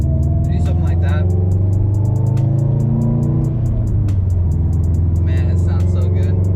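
A 2015 Subaru STI engine drones low and steady while driving, with a brief shift in pitch midway, heard from inside the car under a rapid ticking and light chatter.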